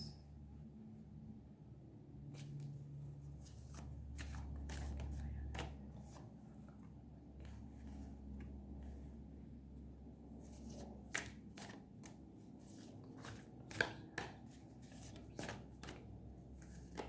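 Tarot cards are shuffled close by in a series of soft, quick riffling bursts and flicks, with a few sharper snaps standing out toward the end over a faint low hum.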